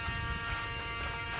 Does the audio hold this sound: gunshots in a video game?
no